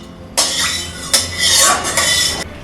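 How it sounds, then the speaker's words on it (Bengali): A metal spoon scrapes and clinks around a kadai (wok) as mustard oil is spread over its surface, giving close, steady scraping with a few sharper strokes across the whole clip. "এবার তেলটাকে কড়াইয়ের চারিদিকে ভালো করে ছড়িয়ে নিতে হবে।"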